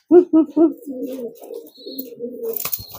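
A pigeon coos in courtship display: three short, throaty coos in quick succession, then a longer rolling, warbling coo, close and loud, with faint rustling toward the end.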